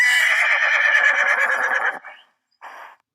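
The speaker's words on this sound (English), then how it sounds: "Horse," A horse neighs loudly and close for about two seconds in a shaky, quavering whinny, then gives a short snort after a brief pause.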